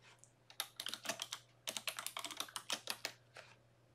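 A password typed on a computer keyboard, with two quick bursts of crisp, close key clicks separated by a brief pause, quiet and without any speech.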